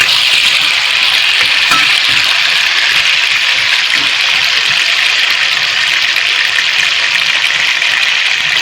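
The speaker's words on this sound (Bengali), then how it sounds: "আলুগুলোকে আমি ভেজে নিলাম" Potatoes frying in a wok as they are stirred, giving a loud, continuous hissing sizzle at close range with no speech.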